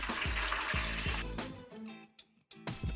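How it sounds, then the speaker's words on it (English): Boiled water pours into a bowl for a home facial steam, a continuous splashing stream broken by brief gaps and a few short bursts near the end, close and fairly loud. "I'm going to take a boiled water and I'm going to pour it into a bowl."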